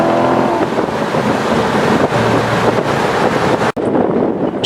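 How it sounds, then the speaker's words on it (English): A 2014 Chevy Corvette Stingray convertible drives along open winding roads, its engine buried under loud, constant wind rush and road roar with a brief dropout near the end. "Time to do a little driving. Give the Corvette a good workout."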